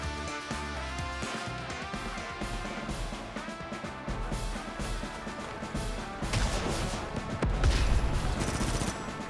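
A missile attack in the strategy video game Advance Wars brings a run of crashing, gunfire-like blasts over steady game music, growing louder toward the end.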